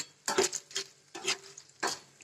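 Raw banana slices frying in hot oil on high flame for spicy chips, with four separate bursts of sizzling and stirring clatter, the first near 0.3 seconds and the others spaced roughly half a second apart, between quieter spells, no voices.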